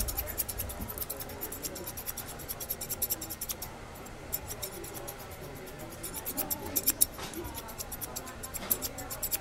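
Barber's scissors feather the edges of hair during a haircut in a quiet barber shop, a quick series of close, crisp snips with soft talk in the background.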